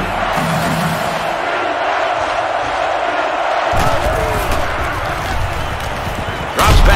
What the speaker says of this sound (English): they're definitely using that crowd noise to their advantage here